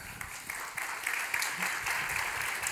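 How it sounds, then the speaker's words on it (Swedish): An audience at a climate policy council's report launch applauds as the chair is introduced: a faint, steady patter of many hands clapping, heard from a distance. "Applåd redan i förväg."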